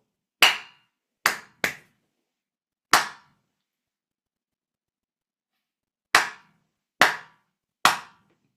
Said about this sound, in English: So I'm gonna clap back from top to the end of these small pieces in here.